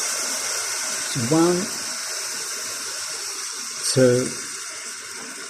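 Water pouring steadily from a tap into a pot of long grain rice, a continuous close hiss throughout while someone speaks briefly twice over it.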